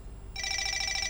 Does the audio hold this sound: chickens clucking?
no